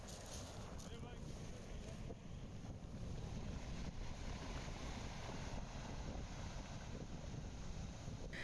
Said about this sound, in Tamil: அந்த தண்ணி எல்லாமே அந்த கல்லெல்லாம் இருக்குல்ல சைட்ல, அந்த இடுக்குக்குள்ள போயிட்டு மறுபடியும் ரிட்டர்ன் போம்போது அந்த சத்தம் கேளுங்களேன்